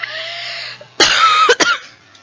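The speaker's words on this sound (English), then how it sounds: "I got like a little bit of a cough" A few harsh coughs burst out close to the microphone, a strong hacking cough followed by two shorter ones in quick succession, after a stretch of strained vocal sound.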